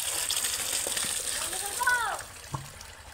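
Water gushes and sloshes steadily in a Sundarbans village, a continuous rushing flow close by, with a voice and brief squeaky calls cutting through near the end.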